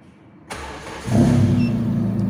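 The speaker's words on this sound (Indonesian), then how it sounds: "Kita akan coba langsung start tanpa menginjak gas teman-teman ya." A car engine cranks and starts at half a second with no gas pedal pressed, then settles into a steady, loud idle rumble that carries on to the end, heard close and alone.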